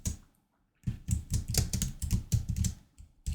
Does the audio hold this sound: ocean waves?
no